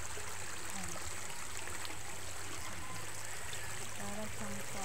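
Water flows steadily in a stream, with a continuous rushing, trickling wash that stays fairly faint and constant throughout, and a distant falls-like roar beneath it.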